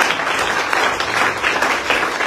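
A church congregation breaks into loud, sustained applause, a dense wash of many hands clapping together without letup.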